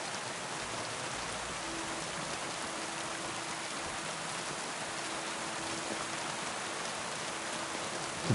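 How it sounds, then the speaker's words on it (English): Steady, dense rain falls as ambient weather in the video game Kingdom Come: Deliverance 2, an even hiss of drops on surfaces with a faint sustained tone, quiet and unbroken, with no voices. "Fucking rain."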